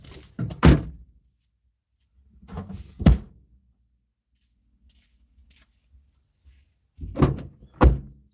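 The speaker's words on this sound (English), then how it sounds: "Let me just close the boot." A car boot is shut, giving several solid, heavy thunks with pauses between them and fainter handling noises in the gaps, close by and with no talking.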